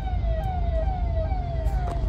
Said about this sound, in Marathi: अग्निशमन गाडी,